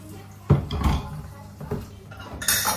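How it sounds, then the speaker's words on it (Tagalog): Dishes being washed at a kitchen sink: close clatter of pots, plates and cutlery knocking together in a few sharp bursts, with quieter handling noise between. "Maghugas muna tayo"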